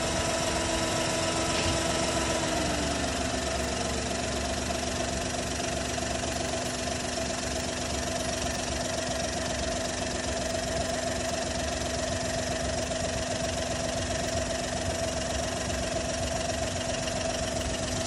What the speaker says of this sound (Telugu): మనం ఇంజన్ నాయిస్ని చాలా క్లియర్గా అబ్జర్వ్ చేయొచ్చు